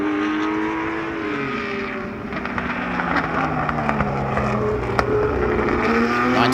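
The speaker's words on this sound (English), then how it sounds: "'62 Ferrari against that 1958 Porsche." A 1962 Ferrari and a 1958 Porsche race side by side at a road-racing speed festival, giving a loud, continuous engine roar with shifting revving tones as they accelerate close by. No one speaks.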